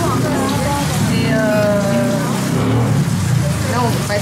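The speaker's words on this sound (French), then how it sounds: "la pluie est vraiment très très forte" Heavy rain pours steadily on a Kyoto street during the Gion Matsuri, a dense, continuous hiss heard close, with a voice talking over it.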